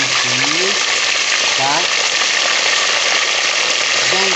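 Chicken thighs and drumsticks sizzle in a pressure cooker pan, a steady loud frying hiss throughout, with someone speaking briefly over it.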